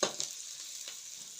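Onions frying in oil in a home kitchen cooked over a traditional wood stove, a soft, faint hiss with a couple of brief stirring clicks near the start, no voices.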